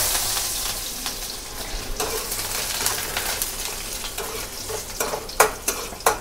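Continuous sizzling of onions frying in a hot pan with occasional stirring scrapes and small pops, close by and fairly quiet, no talking.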